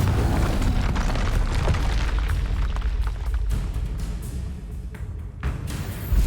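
Explosions from the Confringo fire spell in the video game Hogwarts Legacy, heavy booming blasts with rumbling low end and crackling debris during combat, loud and dense, fading slightly before a final burst.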